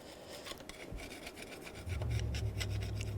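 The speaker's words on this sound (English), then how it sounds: "Just use a scraper. If you're careful, you can use a razor blade. Just scrape any excess gasket material." A scraper works old gasket material off the sealing surface of a 2000-06 Chevy Tahoe engine during a water pump replacement, making a quiet, close run of short rasping strokes.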